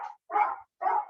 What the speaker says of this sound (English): There is a dog in the office.